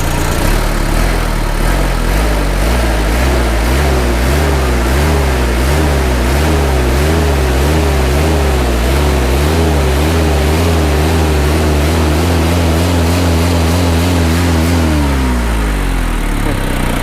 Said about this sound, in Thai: เสียงเครื่องนุ่มนวลครับ